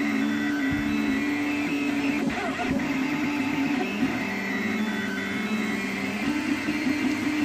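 A Rostock Max v2 3D printer runs alone at close range, its stepper motors whining in steady tones that shift pitch as the moves change, over a constant mechanical hum.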